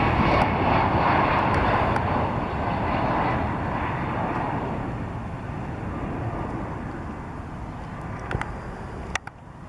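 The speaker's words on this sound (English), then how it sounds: "This Boeing 767 was landing at an airport in Brazil" A Boeing 767 comes in low to land at a Brazilian airport near a mountain wall, its engines roaring loudly and steadily close by, slowly easing off, with a few sharp clicks near the end.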